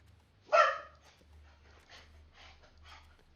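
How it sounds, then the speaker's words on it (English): A single loud dog bark up close, then a few quieter yips or whimpers spaced out over a low steady hum. "And that would be my dog."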